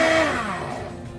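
A blender motor blending a green smoothie whirs loudly, its pitch sliding downward as it slows and winds down over about a second.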